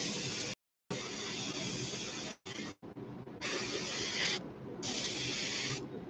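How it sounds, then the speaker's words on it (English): Paint spraying in long steady hissing bursts over a stencil onto a crawfish fishing lure, close and loud, with a few short pauses between passes and no talking. "I'm literally just spraying straight over the stencil, and it'll go right into the cracks."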